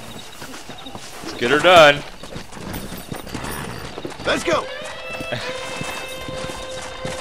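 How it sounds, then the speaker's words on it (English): Horses in the Red Dead Redemption video game clop along steadily, with a loud whinny early on and another horse call later. Someone talks over the hooves. "Let's see if we can't wrangle some horses."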